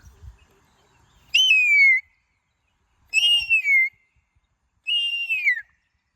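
A boy imitates a kite's call, giving three shrill, descending whistled cries separated by short pauses, loud and close.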